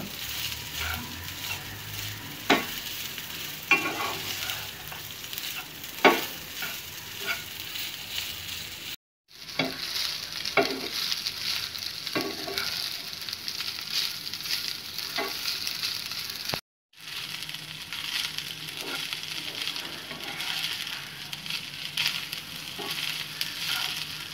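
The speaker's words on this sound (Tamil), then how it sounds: "நல்லா கிளறி விட்டுக்கணும்" Egg fried rice is stirred in a hot pan, with a constant soft sizzle broken by repeated scraping clacks of a spatula against the metal, close by and without talk.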